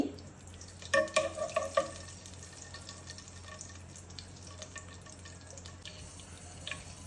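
Oil and ghee heating in a cooking pot for pulao, a soft steady sizzle with a short burst of stirring and clinking near the start, then a quiet continuous fry.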